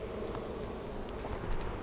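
Honey bees in a queenless hive give off a steady, dense buzz, close and continuous with no pauses, and no voices over it.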